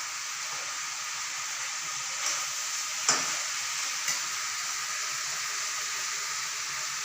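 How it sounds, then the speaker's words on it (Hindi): A mixed vegetable curry of carrot, peas, potato and beans cooks in a pan, giving a steady hiss and sizzle with a few soft stirring clicks. "देखिए सब्जी बन रही है मेरी"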